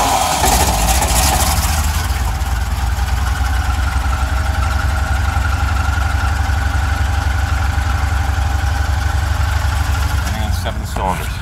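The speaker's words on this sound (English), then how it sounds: "Running on 7 cylinders." A car engine fires up from a cold crank with no choke and settles into a rough, lumpy idle on seven cylinders, a loud steady rumble throughout with a brief clatter near the end.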